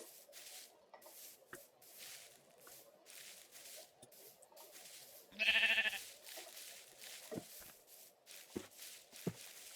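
Sheep bleat once, loud and close, in the Minecraft video game. Sparse clicks and taps from play surround it over quiet room noise.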